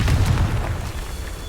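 A Confringo fire spell bursts in the video game Hogwarts Legacy, a deep booming explosion that hits immediately and rumbles away over a second and a half.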